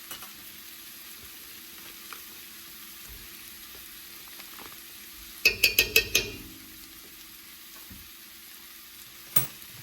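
Vegan butter sizzles faintly in a pan, a soft steady hiss broken midway by a quick burst of metallic clinks and scrapes, then one more knock near the end.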